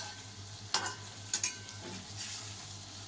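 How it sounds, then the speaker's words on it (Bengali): Bora fritters fry in a pan of oil, making a soft continuous sizzle close by, with a few sharp clinks and scrapes from a spatula or utensil. "এখন হচ্ছে, ভাজা চলছে বড়াগুলো।"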